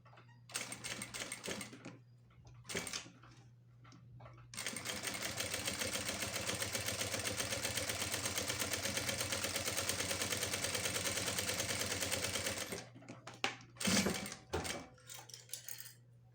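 A sewing machine stitches fabric on a small versatile pouch. Short rapid bursts of whirring come first, then a long continuous run of steady mechanical stitching, followed by a few brief stops and starts.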